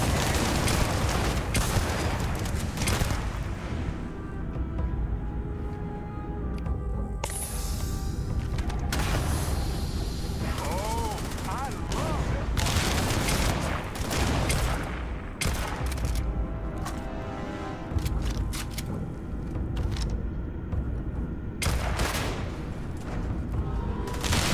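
Explosions and rapid gunfire in the space video game Starfield, with bursts of automatic fire, sharp shots and booming blasts repeating densely and loudly for the whole stretch, and a few brief quieter gaps between volleys.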